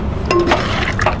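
A spoon stirring thick mutton korma in a pan after garam masala and coriander are added, with a short burst of scraping and soft clinks over a low sizzle.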